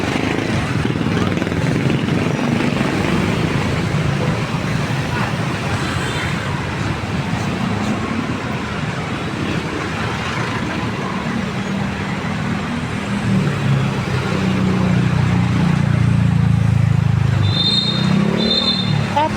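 Heavy road traffic with big trucks rumbles loud and constant, with engines swelling near the end and a brief horn-like tone, while people talk over it.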